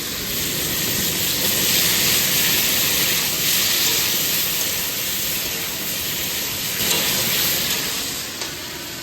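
Tomato tipped into a pan of lightly fried shrimp tempered with cumin and dried chilli, giving a loud, steady sizzle and hiss of frying that holds throughout with slight swells, close up and without talk.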